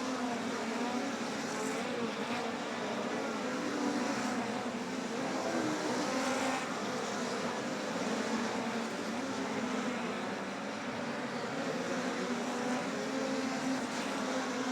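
Midget race cars on track at Humboldt Speedway in a POWRi National and West Midget League race, a continuous loud, droning engine roar that swells and fades gently as the field circles.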